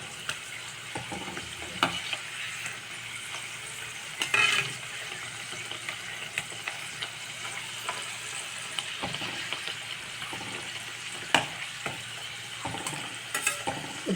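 Sweet stuffed pooris frying in oil make a continuous bubbling sizzle, fairly quiet and close, broken by occasional light clicks and pokes from a utensil, with no voices.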